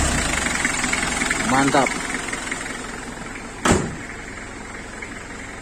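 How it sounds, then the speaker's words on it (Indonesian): A 1992 Nissan Cedric sedan engine runs at idle with a low, steady rumble from its exhaust, close by and continuous, with a brief sharp rise partway through while someone speaks a short word over it. "Kita dengar suara knalpotnya."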